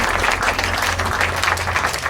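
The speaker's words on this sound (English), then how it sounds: "Give her a big round of applause." An audience claps through a live psychic stage show, loud, dense and steady applause filling the whole stretch without any talking.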